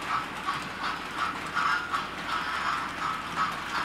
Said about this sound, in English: Richard II is a Hornby Kings Class TTS locomotive.